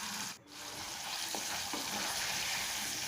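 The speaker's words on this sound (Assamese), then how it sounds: "অকণমান ৰিফাইন তেল আপুনি এনেদৰে ৰিফাইন নাইবা মিঠাতেলত পনীৰখিনি ফ্ৰাই কৰিব পাৰে" Paneer frying in refined or mustard oil hisses in a steady, dense sizzle throughout, with a brief dip near the start and a couple of faint taps.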